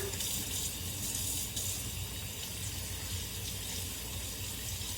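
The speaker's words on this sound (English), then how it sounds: "Let the water flow all the way down through what you made there." Tap water runs steadily through a leek being rinsed under a kitchen faucet, a continuous close splashing hiss with no pauses.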